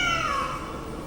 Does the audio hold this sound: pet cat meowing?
yes